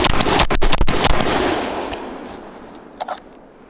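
A SIG MCX rifle firing 125 grain soft point rounds outdoors lets off a quick string of sharp, loud shots, then long echoing decay and a short second burst near the end, with no speech.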